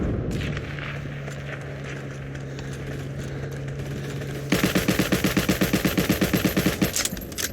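Gunfire in the online shooter Heroes and Generals. A low steady hum of game sound gives way about halfway through to a loud, rapid burst of automatic fire, a fast even stream of shots that continues to the end.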